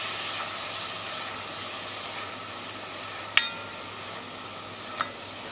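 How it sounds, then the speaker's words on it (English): Garlic cooks in oil in a pan over low heat, giving a steady, soft, close sizzle that runs throughout, broken by a couple of faint clicks from stirring. "we want this over low heat. You never want a brown garlic."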